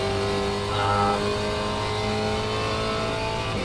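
Spec Racer Ford at Phillip Island in iRacing, engine accelerating hard with a loud, continuous rising drone, another car close by, no talk.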